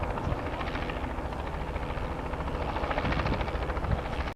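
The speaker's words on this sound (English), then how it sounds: "Second chopper for the day." A helicopter passes over an agricultural showgrounds, its steady rotor chop and engine roar loud and continuous throughout without any speech.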